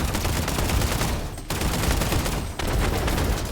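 Video game gunfire in System Shock, a dense, loud rattle of continuous shots with two brief gaps where the firing drops out before resuming.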